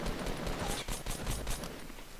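Rapid automatic gunfire aimed at a character in the video game Fortnite, a dense run of shots sustained across the whole moment at moderate loudness.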